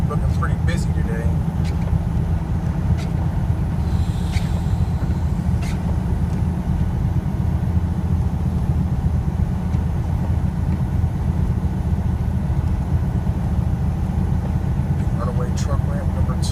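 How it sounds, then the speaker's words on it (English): Steady road traffic roars down a steep mountain highway grade at Fancy Gap, a continuous engine and tire rumble with someone talking over it. "traffic coming down this thing at this time of day"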